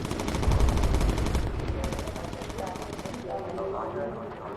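Rapid machine-gun bursts from a WWII bomber's turrets during an air battle in the game Bomber Crew, a dense rattling run of shots with someone talking over it, easing off toward the end.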